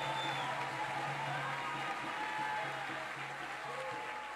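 Audience applause at a ceremony inducting a culture minister in Brazil, a dense, continuous patter of many hands clapping, steady and moderately loud, with a few voices murmuring and calling out beneath it.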